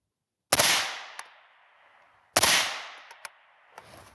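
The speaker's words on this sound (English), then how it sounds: "So let's shoot the dirt next to it first." Two suppressed shots from a roller-delayed rifle fitted with a Rugged Surge suppressor, fired outdoors into dirt, each a sharp muffled crack trailing off into a short decay, with faint ticks and impacts after each.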